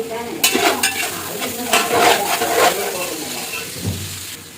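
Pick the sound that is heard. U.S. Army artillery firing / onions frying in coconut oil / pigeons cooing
onions frying in coconut oil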